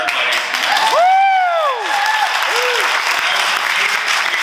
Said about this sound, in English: can we give a round of applause for Yue Don Dong?